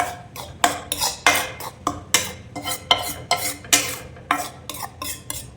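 A laddu mixture is stirred and dry-roasted in a pan, with a steady run of scraping, clinking spoon-on-pan strokes repeating about twice a second, close and fairly loud, with no talking.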